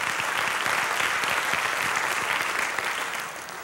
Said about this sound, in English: Let's give the Lord a great big praise clap.